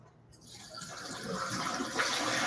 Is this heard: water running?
yes